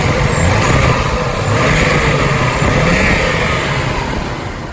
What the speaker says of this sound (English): Let's give it a little rev.